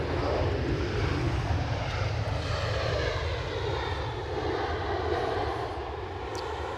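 An EasyJet airliner from Paris Charles de Gaulle at Edinburgh Airport fills the air with a loud, steady jet roar that slowly eases as it passes.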